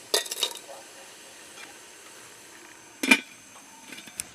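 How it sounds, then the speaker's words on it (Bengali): Metal or ceramic bowls clink and clatter as they are lifted out one by one while steaming pitha, with a cluster of knocks at the start, a sharp clank midway, and quiet steam between. "একটি একটি করে এখন বাটি নামিয়ে নিচ্ছি"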